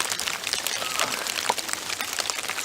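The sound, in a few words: rain falling hard outdoors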